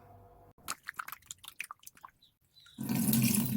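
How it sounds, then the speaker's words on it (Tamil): Aloe vera gel pieces being rinsed and washed in water, with a broadband splashing, sloshing wash rising loudly near the end after a few faint wet handling noises. "இது ஒரு 7 டைம்ஸ் நம்ம நல்ல தண்ணியில் கழுவிக்கணும்"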